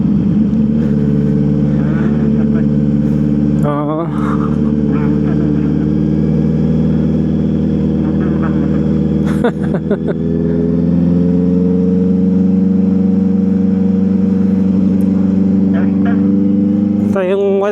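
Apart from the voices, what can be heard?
car driving on the CALAX expressway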